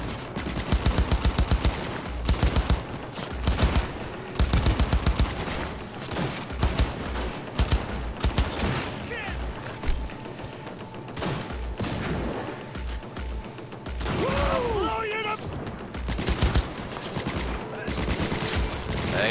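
Gunfire in the Cyberpunk 2077 video game: loud rapid automatic bursts repeat in clusters over a dense layer of game music and effects, with the shooting thinning out later into a steady busy background.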